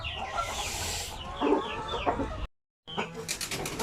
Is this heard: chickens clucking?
yes